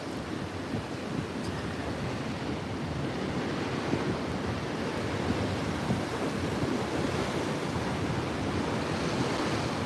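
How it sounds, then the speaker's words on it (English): Big ocean waves with heavy white water break and roll continuously on a rocky basalt coast at Fingal, a steady loud roar with wind across the microphone and no talk. "here comes some big waves with a lot of white water"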